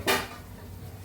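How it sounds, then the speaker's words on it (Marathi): A lid is set onto a cooking pot while a dish simmers for home Holi cooking, making one quick, fairly close clank that fades into a faint low hum with no talking. "आणि मी हे थोडा वेळ झाकून ठेवणार आहे"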